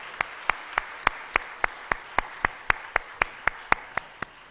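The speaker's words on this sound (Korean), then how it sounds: "힘찬 박수 한번" A church congregation at a Sunday afternoon service claps in a steady, evenly spaced rhythm, each sharp clap distinct and moderately loud, with no talking over it.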